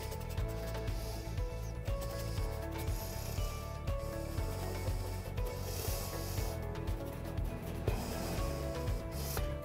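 A paintbrush dry-brushes green paint onto a textured 10 ounce canvas, making quiet, repeated scratchy rubbing strokes up close, with faint background hum throughout.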